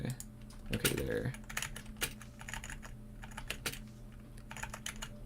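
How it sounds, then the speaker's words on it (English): Loud computer keyboard presses from typing during a live game stream, a dense clatter of sharp clicks in bursts across the clip with a heavier flurry near the start, over faint background hum. "these key presses are mad loud"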